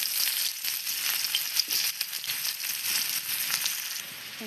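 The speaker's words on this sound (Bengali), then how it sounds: "পেঁয়াজটা ভাজা হয়েছে" Onions fry in oil in an Indian village kitchen, cooking for a dish with greens and potatoes. A dense, continuous hissing sizzle stays close and fairly loud throughout, with light crackling and no voices.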